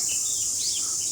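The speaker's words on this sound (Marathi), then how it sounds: "पक्षी कसे वरडतात, किलबिलाट चालू आहे." Faint bird chirps and short calls drift over a steady high hiss of insects, a soft 6 a.m. morning chorus at some distance near Lonavala.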